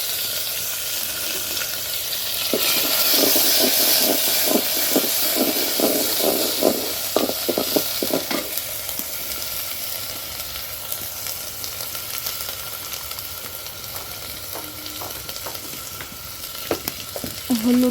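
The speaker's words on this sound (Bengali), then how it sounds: "তো এখন আমি মশলাটা ভেজে নেব প্রথমে।" Bay leaf, green chili and ginger-garlic paste fry in very hot oil, a loud, close sizzle with bursts of stirring and scraping early on that settle into a steadier hiss.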